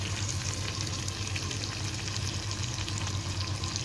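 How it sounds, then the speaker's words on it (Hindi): Chicken curry with potatoes being stirred in a pan while it fries, a steady close sizzle with soft scraping throughout and no talking. "ये जो इधर अब थोड़ा हिलाना पड़ेगा, नहीं तो जल जाएगा"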